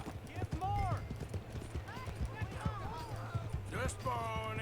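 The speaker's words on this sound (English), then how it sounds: "Just a horse." Horse hooves clip-clop at a steady gallop in the video game Red Dead Redemption 2, with a horse whinnying and a voice talking over the hoofbeats.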